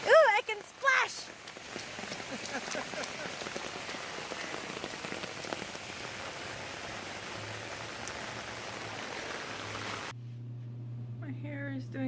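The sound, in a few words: splashing through rain puddles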